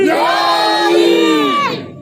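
A crowd at a 13 Rajab celebration for Maula Ali in Navagadh, Jetpur shouts a religious slogan in unison, one loud sustained chant lasting about two seconds before it cuts off.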